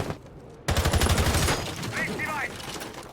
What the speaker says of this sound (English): Random gunfire going out through the wall.